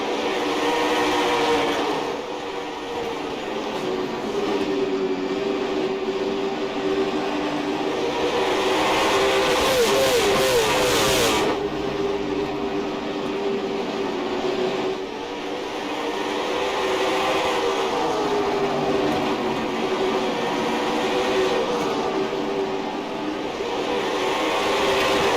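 A field of late model race cars roars around the track in an esports racing league, engines droning continuously with rising and falling revs and a steady mid-distance pack sound.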